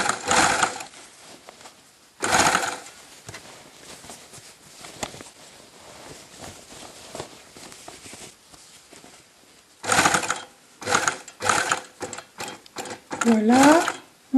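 A sewing machine stitches a top's side seam in several short bursts of rapid mechanical whirring, with a quieter stretch in between where a person talks nearby.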